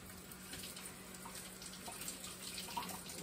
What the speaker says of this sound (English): so you can see me wash this egg